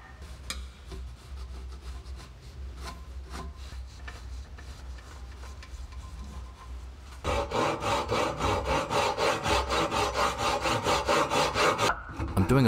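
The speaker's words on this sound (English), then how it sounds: "lot of the work with a spoke shave" Rhythmic rasping strokes of a spokeshave shaving a wooden axe handle, quieter at first, then louder and faster, repeated steady scrapes close by.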